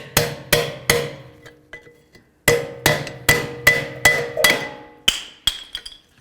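Sharp metallic clanks and taps ring out in quick bursts while rear brake pads are worked free of the caliper bracket on a 2010-2016 Buick LaCrosse, loud and close, with a brief pause midway and no talk.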